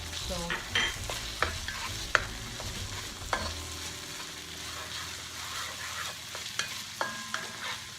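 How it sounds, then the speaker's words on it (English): Browned onions fry with ginger garlic paste in a pan, sizzling steadily while a spoon stirs and scrapes in irregular clinks close by, with no talking. "We're gonna start adding ginger garlic paste."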